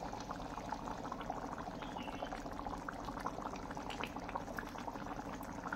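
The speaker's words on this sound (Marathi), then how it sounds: "आपल्या भाजीला छान उकळी आलेली आहे." Potato bhaji simmers in a pot with a steady, bubbling boil, close and continuous throughout, with dense small pops and gurgles.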